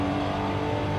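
Steady engine drone of a 2022 Cadillac CT4-V Blackwing in Forza Horizon 5, a loud, even tone with strong harmonics held throughout with no voices.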